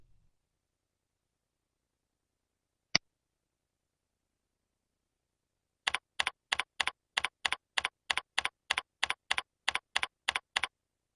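Typing a login name on a computer keyboard: an isolated click, then a quick, even run of about fifteen close, crisp key presses in otherwise silent surroundings.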